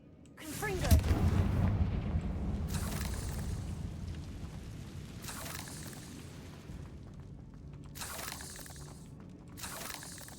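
A Confringo fire spell bursts with a loud, booming explosion in Hogwarts Legacy. The rumble swells and then fades slowly, and a few lighter whooshing bursts follow, with speech in between.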